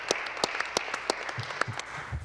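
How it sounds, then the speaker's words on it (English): Applause from a small number of people in a legislative gallery: sparse, separate claps in an uneven rhythm, fairly faint and echoing, with no talk. "Let's give them a big round of applause."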